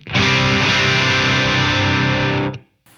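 A single-coil electric guitar through a tube screamer pedal, last in the chain with tone backed off, plays one loud thick-overdrive chord for a couple of seconds before it's choked off, followed by a faint pick noise.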